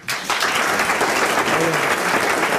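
Audience applause for a guest on a 1992 French television entertainment show, starting abruptly and holding as a loud, dense, sustained round of clapping.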